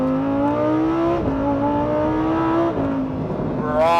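Lamborghini Huracan STO engine revving hard above 4,500 rpm, a loud, steady high-pitched wail that dips briefly at each shift and climbs again, heard close from inside the car.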